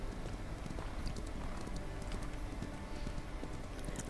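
Horse hooves in the ranch video game Ranch of Rivershine trot in a continuous, quick clopping rhythm over a dense background bed, moderately loud with no clear talk.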